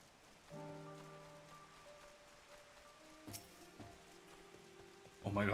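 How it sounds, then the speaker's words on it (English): Rain falling in the game Final Fantasy XIV, a soft steady patter beneath sustained musical tones, with a brief sharp splash midway and a louder burst of rain noise at the very end. "Oh my god, how long is it gonna rain?"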